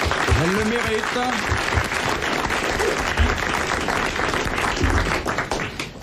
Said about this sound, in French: vous allez applaudir Madame Pournain d'Angoulême